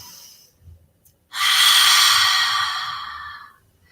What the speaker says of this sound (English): let's go ahead right now and take our first conscious deep breath